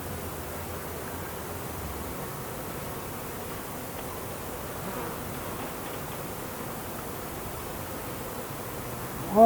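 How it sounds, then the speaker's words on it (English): Honeybees buzz steadily around an open hive under inspection, a dense, even hum that holds close and constant throughout, with a brief louder bump at the very end. "I've got a bunch of bees here"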